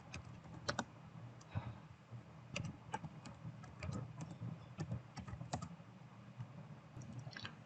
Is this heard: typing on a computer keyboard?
yes